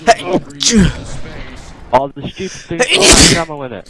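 A single loud, sharp sneeze bursts out during a Call of Duty Advanced Warfare Exo Zombies session, with people talking before and after it.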